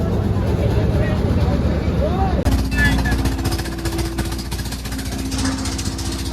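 A trawler's engine starts up for a trip to the Sundarbans, a hard rhythmic diesel chugging that kicks in abruptly partway through and then thumps on loudly, with people talking nearby over it.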